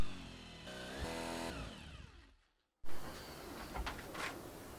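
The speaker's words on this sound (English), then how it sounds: "I'm now going to continue trying to get through this with a blunt drill bit." Power drill grinding through metal with a blunt bit, a harsh whine that winds down to silence, then restarts with a loud burst and continues rasping steadily.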